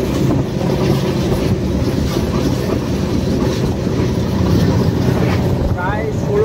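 Loud, continuous rolling rumble and clatter of a long-distance train to Secunderabad picking up speed on a misty day while running many hours late, steady for the whole stretch.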